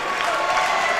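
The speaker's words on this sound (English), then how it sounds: "Somehow the crowd got loud?" A high school varsity boys basketball crowd in a gym, a dense, loud wash of cheering and clapping that holds steady throughout with no pauses.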